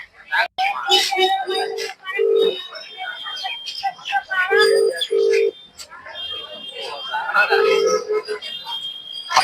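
A telephone rings in a Kannada short film about friendship, giving short paired electronic tones repeated several times, mixed in with ongoing speech.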